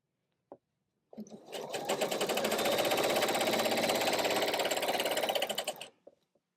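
A sewing machine stitches a seam on an ottoman pouf, running steadily at close range for several seconds with a fast, even mechanical chatter after a brief start and a click.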